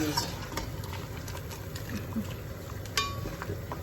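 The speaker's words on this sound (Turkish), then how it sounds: "Şöyle güzel karıştırayım onları da yapışma yapmasınlar." Boiling lasagna pasta sheets stirred in a pot, with soft scraping and clinking of a utensil against the metal over a steady bubbling hiss, close and moderately loud.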